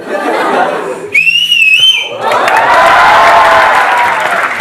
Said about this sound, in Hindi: सर आपके लिए एक सीटी मारना चाहती हूँ